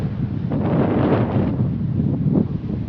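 Strong wind buffeting the microphone on a small boat at sea in rough weather, with dense gusting rumble and waves swelling beneath it, no talk.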